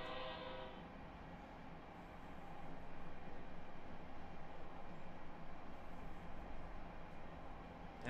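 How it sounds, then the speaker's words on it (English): A train rolls past on the adjacent track with a steady, continuous rumble and rattle, fairly faint and distant, with no voices. "There's a train right there."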